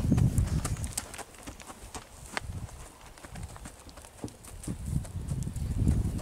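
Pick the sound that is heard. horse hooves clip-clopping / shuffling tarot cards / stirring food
horse hooves clip-clopping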